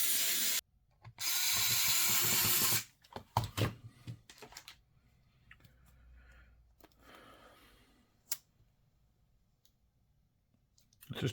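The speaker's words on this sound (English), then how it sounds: "So I'm going to put all the screws back in now." A power screwdriver whirs in two short bursts as screws go back into a Samsung Galaxy Tab A T510 tablet, followed by small clicks, taps and handling noises during the quiet repair.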